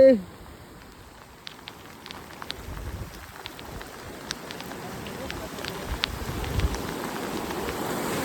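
Floodwater rushing toward the Samsan Juthan dam, a broad continuous roar with scattered splashes and crackles, building slightly louder over time.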